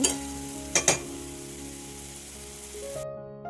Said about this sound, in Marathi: आता हा कांदा गुलाबी होईपर्यंत छान परतून घ्यायचा